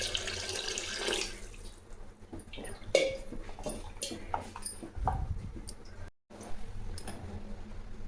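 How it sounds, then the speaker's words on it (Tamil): Water runs and splashes for a few seconds into a cooking pot of fenugreek curry, followed by scattered clinks and small kitchen sounds, close and fairly quiet. "கொஞ்சம் தண்ணி சேர்த்துக்கலாம்."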